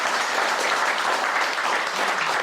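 An audience at an evening gathering at Dorothy's Speed Shop applauds: a dense, steady wash of clapping from many hands, loud and sustained throughout the brief moment.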